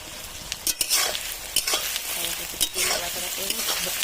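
Onion and spice masala fry in a pan with a continuous loud sizzle, broken by quick close scrapes and clinks of the stirring spoon against the metal.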